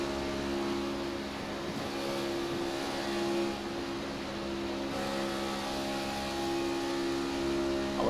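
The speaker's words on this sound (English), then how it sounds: "You can hear him, he's flipping out of the throttle here." A race car engine at Daytona in the iRacing video game drones steadily and loudly, its pitch and tone shifting as the driver lifts off the throttle partway through, with no voices.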